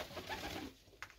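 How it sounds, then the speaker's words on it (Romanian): Pigeons coo inside an aviary in a short, soft, murmuring burst, close by and fairly quiet, fading toward the end with a brief faint rustle. "Porumbei arată foarte bine"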